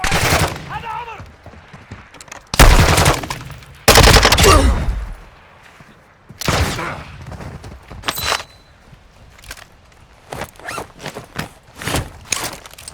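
Bursts of automatic gunfire in the DMZ video game, loud heavy volleys followed by scattered sharper shots and rattles, some close and some farther off.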